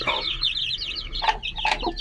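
A small chicken clucks in short repeated bursts near the mic, with a couple of louder clucks toward the end and steady farmyard background noise.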